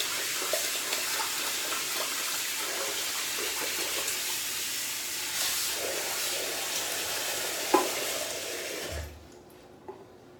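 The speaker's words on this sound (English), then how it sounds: "Meanwhile, I'm gonna give my brush another quick rinse." Tap water runs steadily into a bathroom sink as a shaving brush is rinsed, a continuous close hiss with a few small knocks and splashes, stopping near the end when the tap is turned off.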